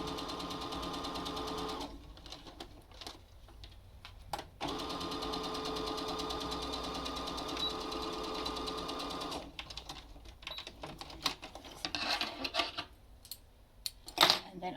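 Sewing machine running the front seam of a cloth face mask, long steady close whirring runs separated by short breaks and handling sounds.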